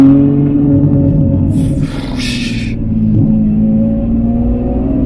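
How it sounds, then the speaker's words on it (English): A Ferrari F12's engine revs and rumbles loudly and close by, holding a steady throaty drone with a brief swell in the middle. "I can feel the backfires in my chest, man"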